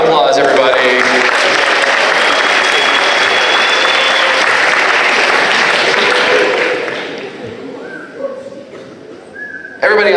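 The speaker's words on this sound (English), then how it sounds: "Give them a round of applause, everybody." An audience at a high school after-prom hypnosis show applauds loudly for about seven seconds, then the clapping fades to scattered claps and murmur.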